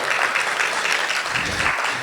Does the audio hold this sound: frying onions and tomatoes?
no